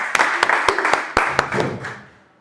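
A short burst of scattered clapping from a small group, sharp claps over murmuring voices, fading out after a couple of seconds.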